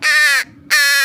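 A pet bird squawks twice near a campsite, two loud, harsh, crow-like calls separated by a short pause, close by with no talk over them.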